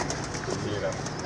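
Pigeons at a bird dealer's being examined during a sale, soft throaty cooing under nearby men's conversation, brief and fairly faint.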